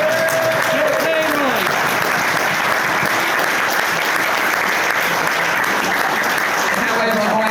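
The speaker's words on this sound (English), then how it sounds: "I just think you all deserve a round of applause for it" Wedding guests clap loudly and continuously at a reception during speeches, a thick, steady wall of applause with a voice speaking briefly at the start and end.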